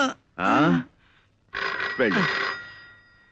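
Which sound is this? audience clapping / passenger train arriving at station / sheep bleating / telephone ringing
telephone ringing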